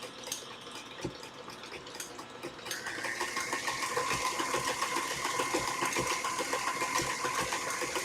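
An electric mixer whirs steadily at high speed while whipping a tres leches cake topping, building from a lower hum to a louder, sustained high-pitched drone with no talking.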